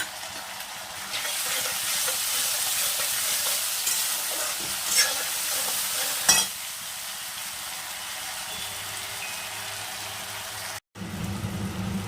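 Spiced masala and onions stirred and fried in a pan for a fish-head murighonto, a steady sizzling hiss with scraping stir strokes throughout, broken by a brief silent cut near the end before the frying resumes.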